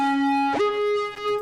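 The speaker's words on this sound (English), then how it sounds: "This is like flute sound." A breathy, flute-like sampled tone holds one pitch, then slides up to a new sustained note, with soft percussive ticks underneath; clear and fairly quiet, no voices.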